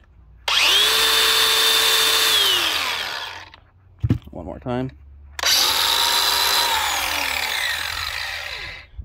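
DeWalt DCG416 cordless power tool running with no blade fitted: a loud high-pitched whine spins up, then slowly winds down; after some clattering handling noise and a brief spoken phrase it starts again and holds.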